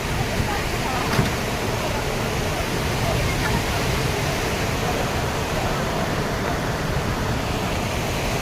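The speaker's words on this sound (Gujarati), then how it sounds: "જો આ પાણી કેટલું ફોડતી આવે છે." Rushing water pouring forcefully in a steady, dense roar like a waterfall, loud and unbroken throughout with a couple of faint clicks.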